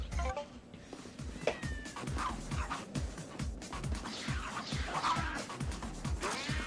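Cats meow in the video game Tokyo Jungle, a busy run of short, overlapping cries over continuous game sound and a low rhythmic pulse.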